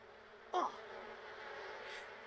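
Bees buzz in a video game: a brief louder buzzing burst rises, then settles into a soft, steady insect hum in the background.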